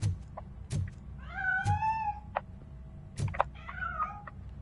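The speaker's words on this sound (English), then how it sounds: "That cat must be hiding inside." A cat in the Robocop video game meows several times, with drawn-out wavering cries between sharp thuds and clicks of game sounds, close and clear with no talking.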